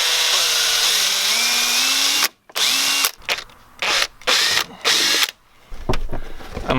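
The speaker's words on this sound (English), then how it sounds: "I'm gonna drill a hole here in the side" A handheld power drill bores a hole into the side of a part on a BMW turbo setup. It whines loudly and close in several bursts of varying length with brief stops between, and no talking.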